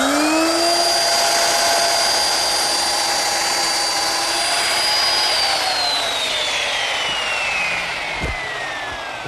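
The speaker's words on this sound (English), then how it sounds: "I can ease the corners using a 1/4-inch rounding over bit" A router fitted with a 1/4-inch roundover bit easing the corners of a redwood arch, a loud steady high whine that shifts pitch slightly as the cut proceeds, running alone without talk.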